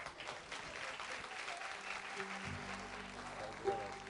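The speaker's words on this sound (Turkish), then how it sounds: "Alkışlarımız sosyete kazım için efendim." Applause from an audience greeting a performer about to sing a Turkish folk song on a stage show, steady clapping throughout with a brief louder burst near the end.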